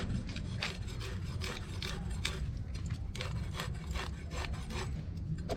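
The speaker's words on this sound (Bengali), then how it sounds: "এই জন্যই চাকু দিয়ে ঘষে ঘষে ছাড়াচ্ছি।" A knife scrapes scales off small whole folui fish from a pond, a steady close run of rough rasping strokes repeating without pause.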